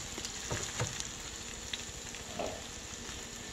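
Turkey bacon patty melt sizzling on a hot surface after being sprayed and flipped, a steady close frying crackle with a few sharp pops and a brief scrape partway through.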